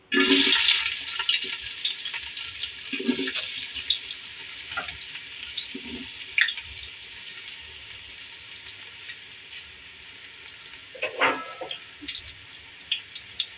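Sliced onions, three medium ones, frying in hot oil in a pan for matar pulao, giving a steady bright sizzle that flares loudly at the start, then settles with occasional stir clatters and spatters.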